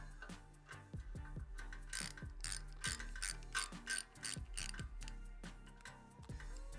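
Ratchet wrench loosening nuts from the cylinder-head exhaust studs of a Harley-Davidson during a Lowbrow Customs 2-into-1 exhaust install, giving a steady run of close, loud clicking ratchet strokes with no talk.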